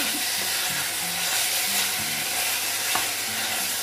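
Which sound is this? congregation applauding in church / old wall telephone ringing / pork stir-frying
pork stir-frying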